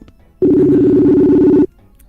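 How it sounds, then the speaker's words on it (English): A telephone ring for an incoming call inside the Rec Room virtual world, a single steady buzzing tone lasting over a second, loud and close, with quiet surroundings before and after. "I think you're getting a phone call"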